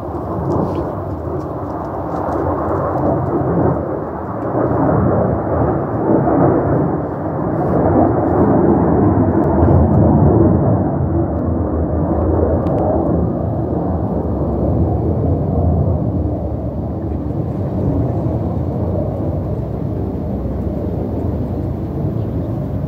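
Jets flying overhead at a distance, a loud broad rumbling roar that swells and slowly fades, continuous throughout with no voices.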